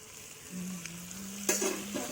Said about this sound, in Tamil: இப்போ நம்ம பூண்டும் கருவேப்பிலையும் போட்டுக்கலாம்.